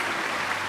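Audience applause at a curtain call in a video game, a brief, steady wash of clapping that fills the short moment evenly.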